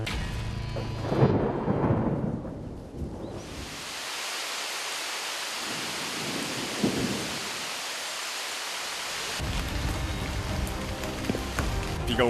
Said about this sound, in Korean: 석청을 찾아 내려가던 중 소나기를 만났습니다.